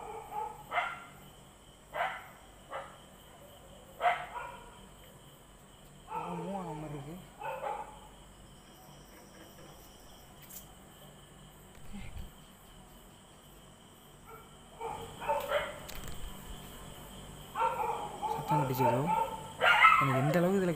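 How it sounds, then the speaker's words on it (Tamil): A dog barks in short, repeated bursts inside a house, fairly close, with steady insect chirping in the background and a voice talking between the barks. "அந்த நாய் வேறு குறைச்சிக்கிட்டு இருக்கு"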